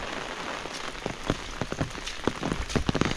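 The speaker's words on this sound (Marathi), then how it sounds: "आता पावसात गट्टू कशाला आला रे बाळा बाहेर" Heavy rain patters steadily on a hard surface, dense scattered drops splashing close by, with no voices.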